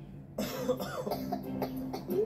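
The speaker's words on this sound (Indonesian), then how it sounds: "Oh, batuk." A person coughs several times in quick, uneven bursts, close and fairly loud, with rough throaty sounds in between.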